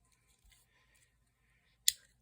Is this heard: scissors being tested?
yes